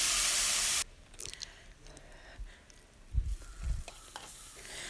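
Onions sizzling and hissing in hot oil while sautéing for mutton kuruma, a steady close sizzle with short stirring bursts.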